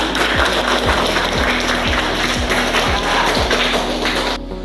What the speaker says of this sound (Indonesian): Kalau memang benar, mari tepuk tangan.